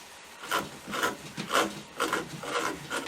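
A palm gouge scrapes and rasps into cottonwood bark in about six short, rhythmic strokes, close and fairly quiet, with no talking.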